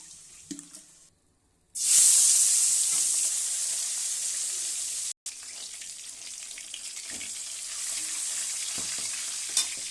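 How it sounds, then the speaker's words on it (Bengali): Curry sizzles steadily in a pan right after broth is poured in, a loud bright hiss that starts abruptly after a short quiet pause, with a brief break midway and faint stirring clinks. "কষানো হয়ে গেছে তারপরে ঝোল দিয়ে দিলাম"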